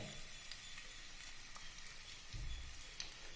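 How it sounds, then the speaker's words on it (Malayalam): Garlic sizzling steadily in a hot pan, a soft continuous frying hiss with faint stirring scrapes and a brief low thump near the end; no voices. "വെളുത്തുള്ളിയാണ് ചേർത്ത് കൊടുക്കേണ്ടത് വെളുത്തുള്ളി ഒന്ന് വതകിതട്ടെ"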